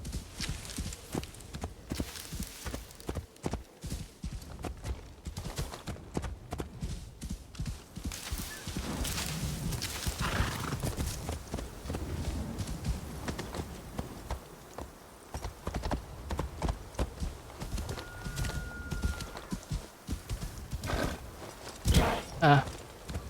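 Steady clip-clop of horse hooves walking, close and continuous, with an occasional brief whinny and some background game ambience.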